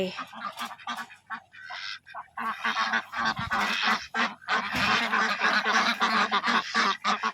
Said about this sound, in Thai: เป็ดเก็บไข่